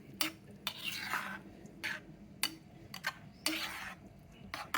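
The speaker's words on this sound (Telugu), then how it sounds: "ఇప్పుడు మాది మీడియం ఫ్లేమ్లో పెట్టి కొంచెం కలుపుతూ ఉండాలి నెమ్మదిగా." A spoon stirs soaked oats for masala oats in a pan over a medium flame, with scraping strokes in an uneven rhythm and soft clinks against the pan, close and fairly quiet.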